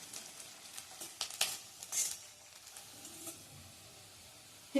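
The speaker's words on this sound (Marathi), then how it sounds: "सतत हलवत आपण हा कांदा लालसर परतून घेणार आहोत" Chopped onions sautéing in a pan for kofta curry, a soft, faint sizzle under intermittent stirring scrapes and light utensil clinks close by, with no talk.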